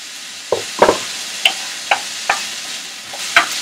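Onion sizzling in a frying pan while being stirred, with a steady soft hiss broken by about seven distinct scraping clacks of the utensil against the pan at irregular intervals.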